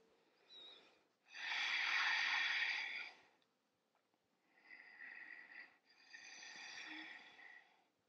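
Breathing during a yoga pose in a vinyasa practice toward the hanumanasana front split: one long, loud exhale, a pause, then two softer, steadier breaths close to the listener, with no talk.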